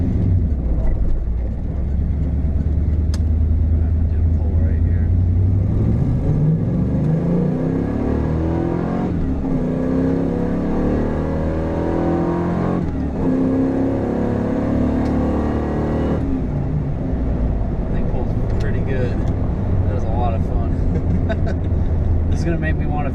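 A 1994 Camaro Z28 V8 idles loud and steady, then climbs through several revs that rise and fall before settling back. People talk over the engine throughout.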